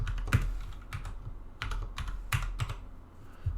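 Keystrokes clatter on a computer keyboard while someone codes a React Native password vault app, arriving in short uneven bursts of close clicks with brief pauses between them.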